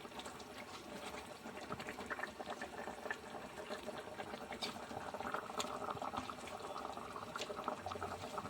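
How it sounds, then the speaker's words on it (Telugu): Tamarind fish curry broth simmers at a rolling boil in a pot, giving a continuous dense bubbling and crackling that stays steady and close throughout. "ఇది పులుసు మరిగింది"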